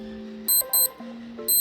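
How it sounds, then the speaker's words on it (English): Naviforce NF9197L digital watch alarm sounds three sharp, high-pitched electronic beep bursts in a quick repeating pattern, each clear and loud over a soft background tone. "you'll hear a sharp digital beep sound like this."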